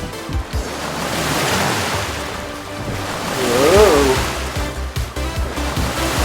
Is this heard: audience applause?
no